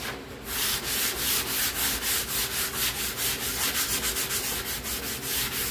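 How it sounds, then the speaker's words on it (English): Steady back-and-forth sanding of bare wood on an old boat, rhythmic rasping strokes repeating quickly and close up, with no talking. "all we gotta do, guys, is start sanding. Start sanding."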